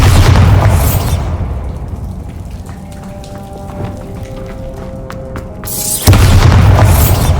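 Bombarda spell going off in Hogwarts Legacy, a heavy booming blast opening loud, fading into crackling debris and scattered pattering, then a second deep blast near the end.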